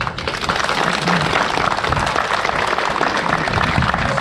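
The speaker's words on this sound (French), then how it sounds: "je crois qu'on peut l'applaudir très fort" Audience applause at a Bastille Day ceremony in Saint-André-les-Alpes, honouring a flag bearer: dense, steady clapping from a crowd that fills the whole stretch at an even, fairly loud level.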